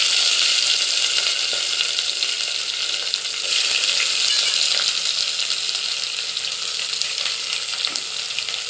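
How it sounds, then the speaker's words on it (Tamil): Chopped onion frying in a hot pan for a home-cooked lunch, a loud, dense, continuous sizzle close by with no voices. "ஒரு வெங்காயம் அதை கட் பண்ணி வச்சுருக்கோம், அதை போட்டுக்கணும்."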